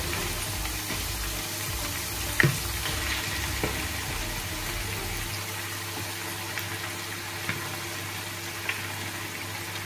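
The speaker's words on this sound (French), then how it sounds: "Je vais donc maintenant ajouter les oignons à l'intérieur." Onions tipped into a pot of simmering carrots for poulet yassa: a dense, even sizzling hiss with one brief thump early on and a few faint clinks afterward, no talking.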